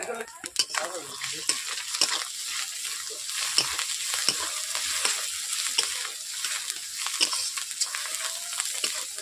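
Chili and turmeric powder hitting hot oil for a katla fish curry, a bright, close sizzle broken by repeated clinks and scrapes of a spatula stirring the pan.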